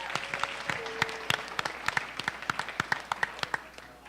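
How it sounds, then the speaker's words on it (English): A small audience at a panel event applauds a birthday honoree. The hand claps are sharp and distinct, settle into a fairly even rhythm, and fade slightly at the end. "Give her another round of applause."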